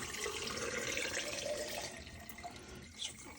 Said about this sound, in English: So now we are just simply going to take this and we're going to pour it over our eggs